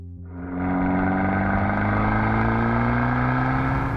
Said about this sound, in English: a 4-pipe record Monza sports exhaust system